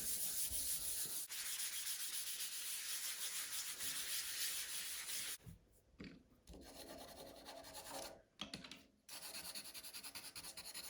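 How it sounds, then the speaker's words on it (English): Ground Unison colour pastel is rubbed firmly into a surface to prepare it for pastel work: a continuous, close, scratchy rubbing that drops out briefly twice before resuming in quick strokes. "I'll just kind of tip that to one side, and then give that a really good rub in."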